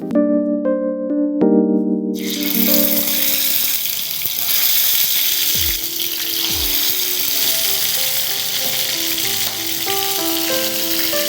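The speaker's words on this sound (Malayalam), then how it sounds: "നെയ്യ് ഒഴിക്കുക, അതിൻ്റെ കൂട്ടത്തിൽ കുറച്ച് വെളിച്ചെണ്ണ." After a few clinks, ghee and coconut oil hit a hot pan and erupt into loud, continuous sizzling that keeps crackling steadily to the end.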